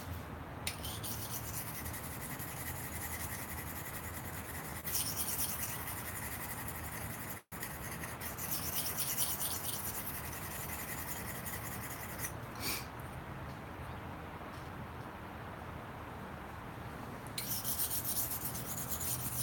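An S35VN steel knife blade is drawn steadily across a coarse sharpening stone, a continuous close gritty rasp that runs almost unbroken with one brief pause, and no voices.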